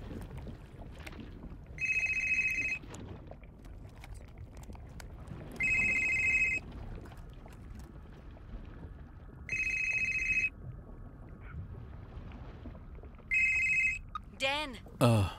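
A mobile phone rings in four evenly spaced bursts of electronic ringtone, clear and moderately loud over a quiet, faintly noisy background.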